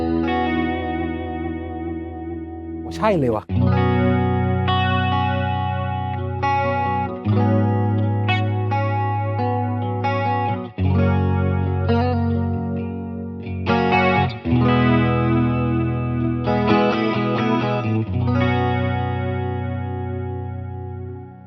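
An electric guitar runs through a stereo chorus effect on a Line 6 Helix Stadium multi-effects unit, playing shimmering sustained chords and single notes with a wobbling, doubled tone, loud and clear with a brief spoken remark.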